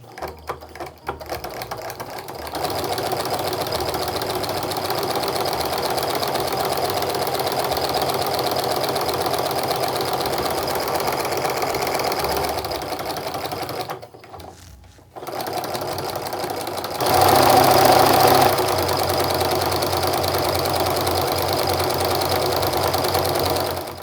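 A sewing machine stitches a quarter-inch fabric seam, running steadily for most of the clip with a rapid mechanical stitching hum, briefly stopping once before starting again slightly louder.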